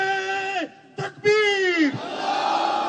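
Large rally crowd in Karachi roaring a slogan back in unison after a leader's call, a lone shouted prompt followed by a massed, loud, echoing chant.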